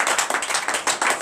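A church congregation claps in rhythm during a morning prayer service, with fast, loud, steady hand claps close by and no talking.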